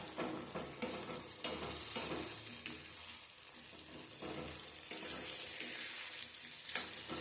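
Tomatoes sautéing in oil for a fenugreek curry, giving a steady low sizzle with intermittent scraping and stirring strokes, moderately quiet and close, with no talk.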